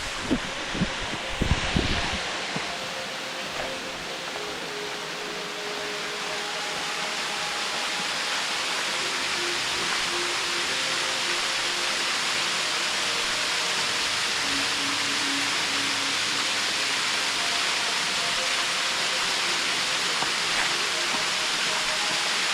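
A waterfall pours into a creek in Coorabakh National Park, New South Wales, a steady broad rushing hiss that grows slightly fuller over time. A few brief knocks and rustles come near the start, and no one speaks.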